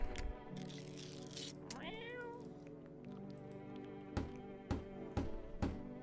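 A cat meows once in a video game, a rising, wavering cry near the start, over a steady droning game soundtrack with a few sharp thuds toward the end.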